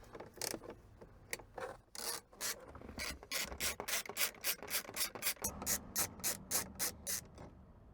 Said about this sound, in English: Now that we've removed the 8mm bolts